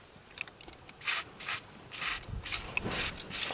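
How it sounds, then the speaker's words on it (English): An aerosol can sprays in a series of about six short, loud hissing bursts close by while work is done on the engine bay of a BMW E34 with an M50B20 engine, with faint handling noises before. "then give it a little spray"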